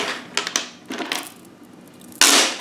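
A small bead slips from a hand while a crocheted beaded necklace is finished, making a few light clicks followed by a sharper rattle as it lands and skitters, close by and alone.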